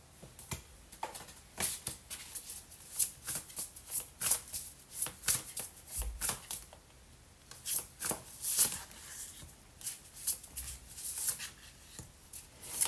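Tarot cards shuffled for a reading: a quick, irregular run of crisp flicks and riffles from the deck, close and fairly quiet, continuing without voices.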